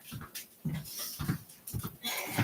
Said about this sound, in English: Let me let my dogs in so they'll stop barking.